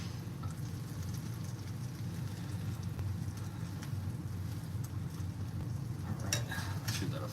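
French onion grilled cheese sandwiches frying in a pan, giving a steady, soft sizzle with a low background hum and a few faint clinks near the end, no talking.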